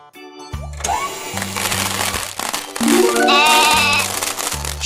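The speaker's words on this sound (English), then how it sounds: "Sheep." Sheep bleats ring out repeatedly in a children's nursery-rhyme cartoon, loud and close, with bouncy music and playful sound effects underneath.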